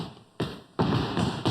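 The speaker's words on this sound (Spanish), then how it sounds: "percutamos también nuestro muslo" Hands slapping the thighs in body percussion, three or four dull, close slaps in quick succession.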